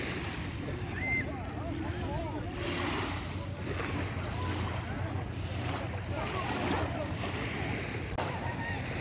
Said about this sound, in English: We are here in Halfmoon Beach in Al Khobar, Saudi Arabia.